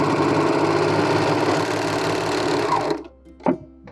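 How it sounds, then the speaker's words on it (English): Serger overlock machine chaining off over the seam of knit fabric on a turtleneck shirt dress, a loud steady rapid whir for about three seconds that stops abruptly, followed by a couple of faint clicks. "serge over it at least a ½ inch and then chain off"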